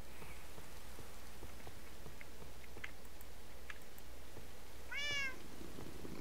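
A cat in Minecraft, Dawncraft modpack, lets out one brief meow near the end, over a steady patter like rain and soft clicking game sounds.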